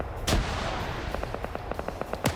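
Heavy .50 cal machine gun firing in a tactical military shooter game during a compound raid, a steady run of rapid, evenly spaced shots after a loud blast, with another sharp boom at the end, fairly distant under the battlefield noise.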